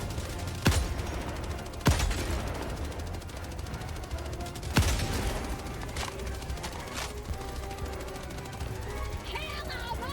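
Gunfire in the Helldivers 2 video game on the bot front, with several sharp loud shots cutting through a dense, continuous battle din of rapid fire and explosions, with a voice speaking over the action.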